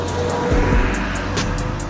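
Truck rumbling past on a road in Borneo, heard from a Bajaj NS200 motorcycle under heavy wind and engine noise, with a loud low sweep as it goes by close.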